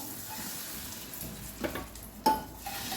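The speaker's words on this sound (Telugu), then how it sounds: "ఈ తాలింపు ఇందులో వేసేద్దాము" A faint sizzle and stirring as tempering is poured into cooked lentils, with a sharp clink of a pan partway through, close by and without talk.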